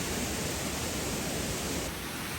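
A large waterfall in the Amboli hills pours with a dense, steady roar that stays loud and close for the whole stretch, with no voices over it.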